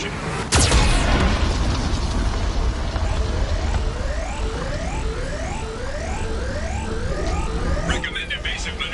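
Geth cannon fire in the video game Mass Effect 2: a sharp, loud blast early on, followed by a sustained roar of battle noise with repeated rising whooshes and a synthetic warning voice.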